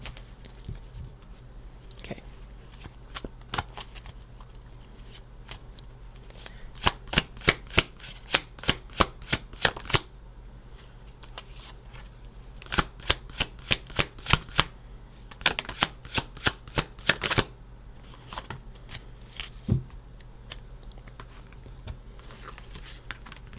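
Slippery tarot cards are shuffled close by in quick riffling bursts, several runs of rapid flicking clicks separated by brief pauses.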